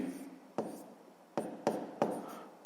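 Chalk or pen scratches out an equation by hand in several short, distinct strokes with brief pauses between them, close and fairly quiet.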